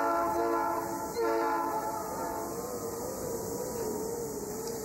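A pair of Monon locomotives passing through the Indiana countryside sound a long sustained horn chord, fairly loud, with rail rumble beneath and a brief break in the blast near the start.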